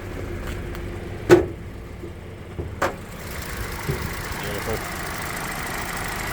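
A 2021 Toyota Corolla Ascent Sport's 2-litre engine idles with the bonnet open, a low steady hum under nearby talk, punctuated by a couple of sharp knocks.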